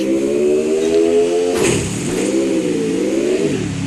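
A car engine in the Free Fire video game revs loudly and steadily, its pitch dropping sharply midway and then climbing and dipping again as the vehicle speeds off, with no talking.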